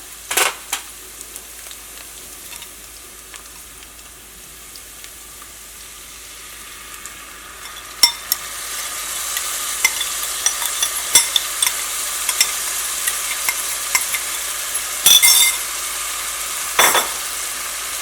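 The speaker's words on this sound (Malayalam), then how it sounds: "ഇതിലേക്ക് നമ്മൾ റെഡിയാക്കിയിട്ട് വെച്ചാൽ നമ്മുടെ സോസ് ഉണ്ടല്ലോ, ആ സോസ് ചേർക്കാം." Onions and garlic sizzle steadily in a pan as sauce is poured in. Intermittent sharp scrapes and clinks of stirring grow louder partway through.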